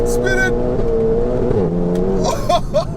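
A 620bhp front-wheel-drive fully forged Golf GTI Clubsport revving hard in second gear with wheels spinning, engine note rising and dipping, loud and close, with brief voices and squeals near the end.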